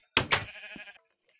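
A sheep in the video game Minecraft gives a single close, clear bleat, a wavering two-pulse cry that fades out, with silence around it.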